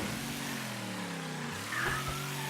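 A car engine in the video game Mafia III hums steadily with a rising and falling drone, and the pitch shifts briefly near the end. It plays alone at moderate loudness with no voices.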